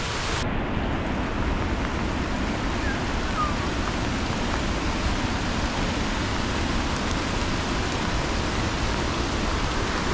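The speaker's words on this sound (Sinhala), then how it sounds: "පිටිපොත වැස්සේ අපි යන්නේ බෝයිස්." Steady heavy rain pours on a mountain pilgrimage trail, a dense unbroken hiss with wind noise, close and continuous, with no voices.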